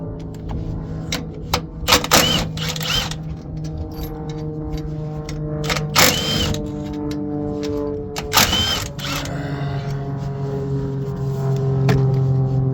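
Ratchet with an extension loosening pipe bolts on a CAT 980M wheel loader: rapid clicking bursts of the ratchet pawl, in several separate runs, over a steady engine or machinery hum with tonal lines.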